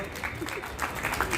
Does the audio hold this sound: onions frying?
no